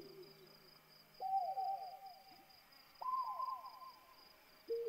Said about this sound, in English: Oh, it's an owl!